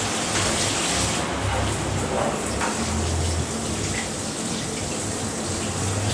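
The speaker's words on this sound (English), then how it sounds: "This one is working with no drips." A 12-inch iShowerhead Hibbent rainfall shower head runs a steady, dense hiss of falling water that stays loud and unbroken throughout, with no voices.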